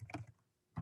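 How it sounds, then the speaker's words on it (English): Quick keystrokes on a computer keyboard, a short burst of faint clicks followed by a pause and one more tap, quiet and close. "Typing too fast."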